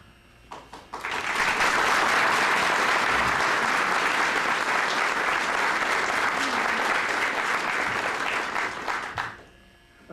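Audience applause at a 2008 Farmers Branch city candidates debate, a sustained wash of many hands clapping that swells quickly, holds steady at full volume for about eight seconds, then fades out.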